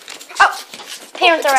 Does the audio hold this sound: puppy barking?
yes